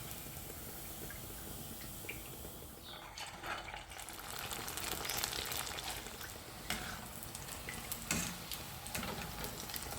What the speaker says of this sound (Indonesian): kita goreng dan untuk menggorengnya gunakan minyak yang sudah cukup panas baru kita masukkan pempeknya